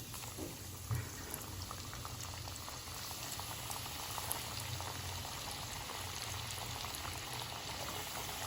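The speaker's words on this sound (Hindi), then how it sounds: "अब इसको तेल में फ्राई करेंगे। तो हमारा तेल इधर गर्म हो चुका है। अब हम एक एक करके इसके अंदर छोड़ देंगे।" Tandoori-marinated chicken strips deep frying in hot oil over high flame, a dense, steady bubbling roar that holds evenly throughout, close and fairly quiet.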